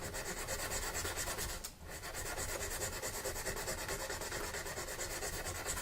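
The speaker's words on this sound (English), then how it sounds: "smooth out all my little diamond file marks" Steady, rapid rasping of a diamond file rubbing back and forth on guitar frets, continuous and close, with only a brief pause midway.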